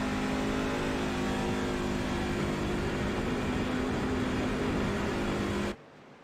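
NASCAR race car engines roar continuously in a PC racing game, a loud sustained engine drone that cuts off abruptly just before the end.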